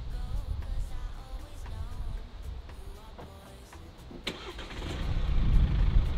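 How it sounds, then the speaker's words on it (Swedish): A remote-controlled children's ride-on car starts up, its low electric rumble swelling and growing louder over the final seconds after quieter background noise. "Nu startar biljäveln."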